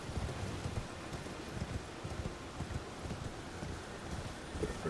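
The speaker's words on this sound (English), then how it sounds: "Let's get on our horse." Horse hooves clip-clopping in Elden Ring, a steady galloping patter of soft thuds running throughout at moderate loudness, with a light rain-like rustle beneath and no talking.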